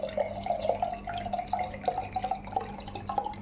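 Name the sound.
water being poured into a large glass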